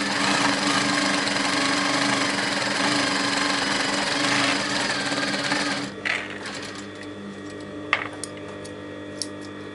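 Sewing machine stitching across curtain weights to close them in, a steady loud mechanical whirr running for about six seconds before stopping, followed by a few faint clicks and handling sounds.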